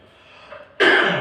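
A single loud, close cough bursts out abruptly after a short, quiet throat sound, alone with no talking.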